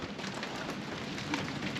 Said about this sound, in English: and now it's starting to rain